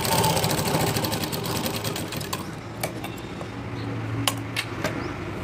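A sewing machine runs steadily at close range, top-stitching two pieces of fabric together, with a continuous rapid needle chatter and a few small clicks and taps toward the end.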